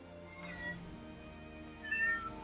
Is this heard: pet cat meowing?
yes